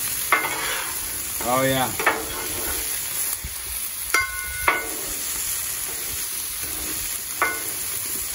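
Peppers and onions sizzle steadily on a Blackstone griddle as they are flipped and stirred with a spatula, scrapes and taps cutting through the frying hiss while someone speaks briefly.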